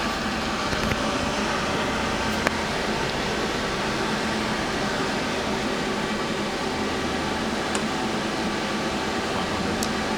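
A Feeler HT-30Y CNC turning center, new 2011 model, runs its live tool with a steady mechanical whir and hum, moderate and constant, broken by a few faint clicks.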